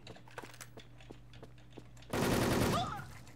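Machine gun fire in the Wolfteam shooter on the Museum map, a sudden loud burst of rapid shots lasting about a second after quiet clicking and faint game sounds, then fading.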